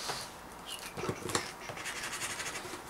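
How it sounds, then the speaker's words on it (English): A blade scrapes and tears through cardboard in several short, scratchy bursts, close up and fairly quiet. "I'll cut into the box."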